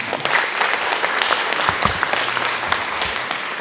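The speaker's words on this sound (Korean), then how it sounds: "심사위원 여러분께 다시 한번 큰 박수 부탁드립니다" Applause from the audience at the 19th Kyung-Ahm Prize award ceremony, a loud, dense burst of clapping close by that carries on steadily for a few seconds.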